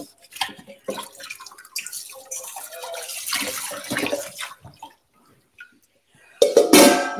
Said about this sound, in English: I've got a bowl of washing up water here.